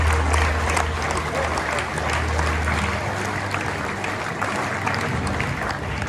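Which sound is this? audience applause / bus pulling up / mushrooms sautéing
audience applause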